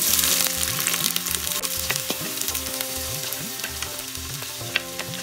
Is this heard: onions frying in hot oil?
yes